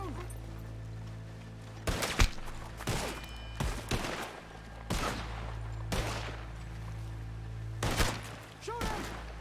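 Gunfire in a video game rings out as a series of sharp, loud shots, spaced irregularly and sometimes in quick pairs, over a low humming backdrop, with voices talking in between.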